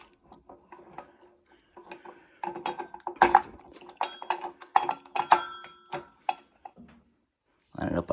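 A bolt is tightened on a Coleman mini bike torque converter, with irregular metallic clicks, ratcheting and clinks of tools on metal, close by, mixed with bits of speech.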